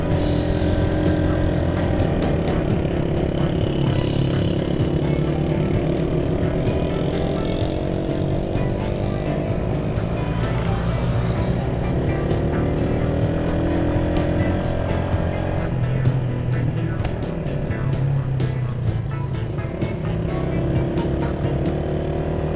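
Honda CG 125 SE motorcycles, one Gold and one Silver edition, ride together along hilly roads, their single-cylinder engines droning steadily and close throughout with constant wind and road noise.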